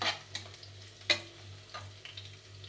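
Onions frying in a pan for mint pulao: a steady soft sizzle broken by several sharp crackles and spatula scrapes, close and with no talking.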